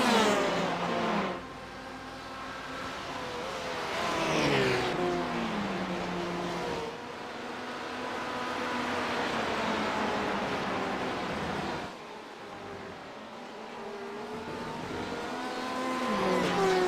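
Race cars including a Corvette lapping Road Atlanta in an endurance race, engines rising and falling in pitch as several cars rev, shift and pass by, a steady loud drone throughout.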